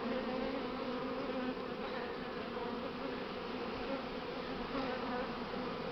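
Honey bees buzz steadily around a hive as a first swarm is settled and its queen removed, the dense, even drone filling the whole stretch at close range with no pauses.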